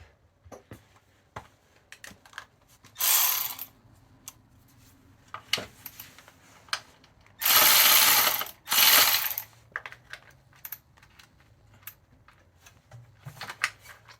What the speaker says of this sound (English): Oh, I keep forgetting I've got a bloody Milwaukee ratchet.